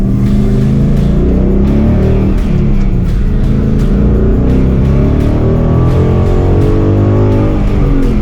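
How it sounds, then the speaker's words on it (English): A Ford Mustang's 5-liter V8 runs hard on a wet race track, a loud, steady engine roar with rising and falling revs that holds for the whole stretch and carries no talk. "what this 5-liter V8 is going to be doing in the wet"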